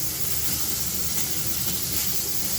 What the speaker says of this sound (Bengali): হয়ে গেছে মাছ ভাজা।